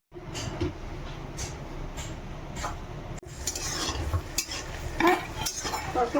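Peanuts frying in a pan, a soft sizzle with scraping and clinking of a utensil against the metal, a brief break midway, then louder stirring and rattling.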